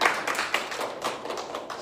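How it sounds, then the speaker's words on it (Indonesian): A church congregation claps their hands together in a dense, steady burst of applause-like slaps, loud and close, filling the whole moment without speech. "Tepuk tangan dulu buat Tuhan kita yang."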